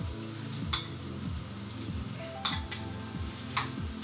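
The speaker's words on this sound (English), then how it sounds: "And I'm just gonna saute them in here. In this garlic parsley mixture." Peeled, deveined shrimp with tails on sauté in a garlic and parsley mixture, giving a steady close sizzle broken by three sharp clinks of a utensil against the pan.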